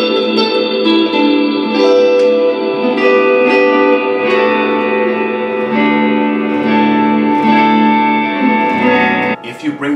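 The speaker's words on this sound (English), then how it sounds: "That is just a beautiful, sweet reverb sound." Sustained guitar chords through an Electro Harmonix Cathedral reverb pedal set near full, ringing out and smearing into a long, washing reverb tail, notes blending into a continuous shimmering wall of sound.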